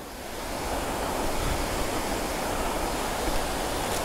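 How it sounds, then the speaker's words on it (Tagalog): Vera Falls waterfall in Malinao, Albay, a loud, steady broadband roar of cascading fresh water filling the scene without pause, close and continuous with no voices. "Ayun na yung falls oh."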